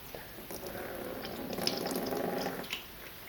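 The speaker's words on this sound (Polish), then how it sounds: "najprościej będzie w tym momencie po prostu wypuścić wodę. Myjka posiada taki zaworek po boku." Water draining steadily out through the side valve of a Chinese ultrasonic cleaner, a continuous close trickling and splashing flow lasting a few seconds, with no talk.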